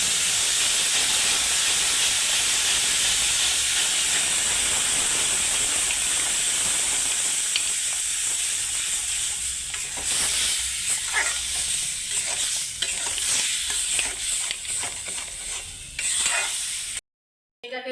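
Palm juice poured into hot ghee for palm ice cream, giving a steady loud hiss of steam and sizzle with scraping stir clicks in the second half, then a brief cut to silence near the end.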